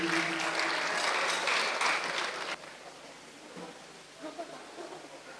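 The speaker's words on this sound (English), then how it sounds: "A round of applause for Dr. Yao" Audience applause at a national robotics competition for a presenter of results, a dense loud burst of clapping that cuts off abruptly midway, leaving quieter scattered noise and faint voices.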